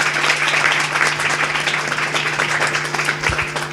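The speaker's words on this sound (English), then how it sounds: "Round of applause again." Audience applause at the Swiss Magic Masters 2025 Modern tournament award ceremony, a dense, even crowd clapping throughout, steady and fairly loud with a low hum beneath.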